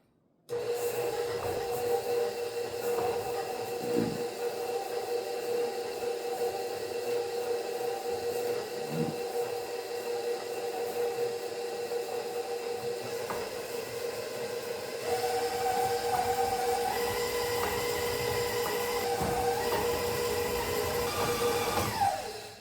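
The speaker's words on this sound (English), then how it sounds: "we're going to go ahead and mix the butter and the sugars together. Cream them together." An electric stand mixer creams butter with brown and white sugar for chocolate chunk pecan cookies, a steady motor whir running continuously throughout with no talking.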